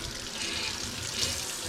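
Water pours steadily in a continuous splashing stream, fairly close and loud, with no talking.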